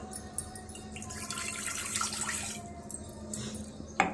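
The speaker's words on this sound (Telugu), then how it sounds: "ఒక గ్లాస్ వాటర్ దీంట్లో వేసుకోవాలి." Water poured into a pot on a gas stove for butterfly pea flower tea, a soft steady splashing stream with a faint ambient hiss and a small clunk at the end.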